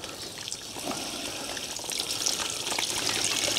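Water gushes and trickles as freshly harvested garden garlic plants are set into a container of water, a steady close splashing flow that grows slightly louder toward the end.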